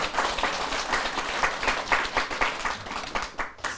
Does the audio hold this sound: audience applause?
yes